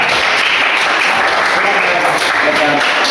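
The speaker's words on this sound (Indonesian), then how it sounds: "Tepuk tangan dong buat kalian." A classroom of students clapping their hands together: loud, continuous applause that fills the whole moment at an even level.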